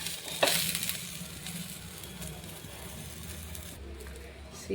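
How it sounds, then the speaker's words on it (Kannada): Dosa batter made with dry drumstick leaf and curry leaf powder hits a hot pan with a sudden loud hiss, then settles into a steady soft sizzle, with a voice speaking over it. "ಇವಾಗ ದೋಸೆ ಹಾಕ್ತಾಯಿದ್ದೀನಿ."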